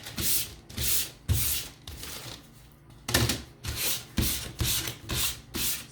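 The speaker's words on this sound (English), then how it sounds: "So I'm just gonna start sanding now." Hand sanding on wood: rhythmic back-and-forth rasping strokes, about a dozen passes with a brief pause midway, close and fairly loud.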